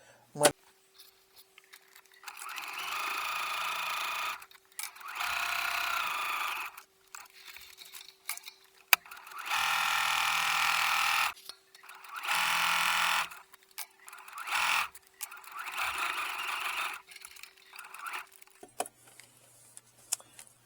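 A sewing machine stitches a quarter-inch seam around wallet fabric lined with RFID-blocking material, running in several separate bursts of steady whirring with short pauses between them.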